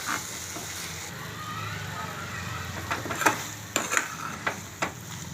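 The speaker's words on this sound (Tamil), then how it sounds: "போட்டு ஒரு நிமிஷம் தொழவி விடுங்க" Black-eyed peas and potato stir-fry being tossed in a pan, a low sizzle beneath a run of scraping stirs and several distinct spatula knocks against the pan in the second half.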